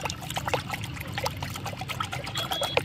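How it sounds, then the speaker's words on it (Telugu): A neem oil, soap and surfactant spray mixture being stirred, giving a steady run of soft liquid trickling and sloshing sounds close by, with no talking. "ఇప్పుడు ఈ మూడు బాగా మిక్స్ అయినట్టు కలుపుకుందాం బాగా మిక్స్ అయిపోవాలి"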